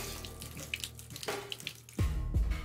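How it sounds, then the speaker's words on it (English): Fire accelerant liquid pours and splashes in the Deponia video game, a running trickle that swells into a heavier gushing pour near the end, close and unaccompanied by speech. "Rufus, do you think you could stop pouring accelerant into the basement of my fireworks shop?"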